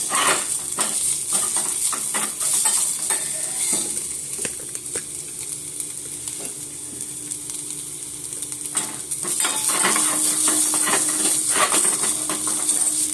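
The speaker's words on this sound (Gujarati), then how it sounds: "તેલ થઈ જાય એટલે આદુ, લસણ અને કઢી પત્તાનું મિક્સ કરવું." Ginger, garlic and curry leaves sizzle in hot oil over a very low gas flame, making a steady close crackle with light stirring clinks from a utensil against the pan.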